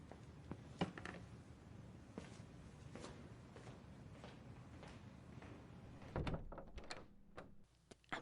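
Someone is at a door, heard as scattered knocks and thumps, then a clustered rattle of handling and a final sharp knock, all faint and close in a quiet room.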